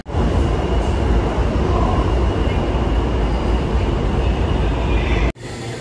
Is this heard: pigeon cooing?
no